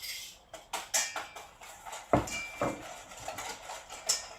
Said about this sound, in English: that's so while I whisk it, it doesn't move